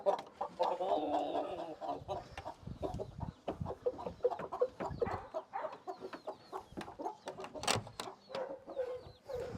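Chickens cluck and squawk agitatedly up close as they are chased on a farm, amid scuffling, flapping and rapid movement, with excited clucks piling on one another throughout.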